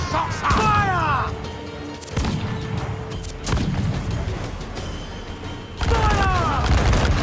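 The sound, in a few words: ship cannons firing in Assassin's Creed 4 Black Flag video game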